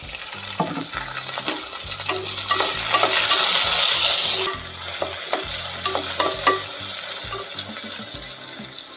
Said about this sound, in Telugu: ఈ వంకాయ ముక్కలను బాగా మగ్గనిద్దామండి